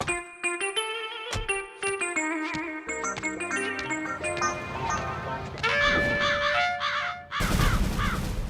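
A flock of crows cawing in a Tamil 3D animated kids' cartoon: loud, harsh caws repeated in quick overlapping bursts over cartoon effects, ending in a sudden noisy burst.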